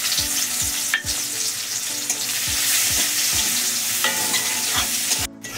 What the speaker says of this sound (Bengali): আমি এখন দিয়ে দিচ্ছি কেটে রাখা পেঁয়াজ।